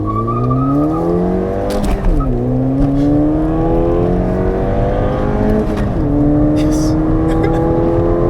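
A modified Ford Fiesta ST pulls hard along a road, its engine note climbing through the revs, dropping at two quick gear shifts, then rising again. The car sounds loud and close from inside the cabin, and a voice speaks briefly.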